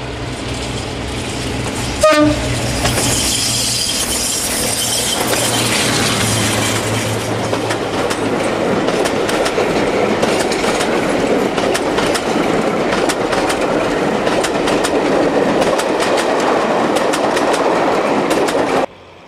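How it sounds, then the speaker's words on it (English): Maybach-engined Western class diesel locomotive D1015 Western Champion passes at speed after leaving Kyle of Lochalsh, a sharp horn blast up front, then a loud, sustained engine roar with wheel and rail clatter that holds steady before cutting off. "Western Champion, having just departed Kyle of Lochalsh, passes Baddycall."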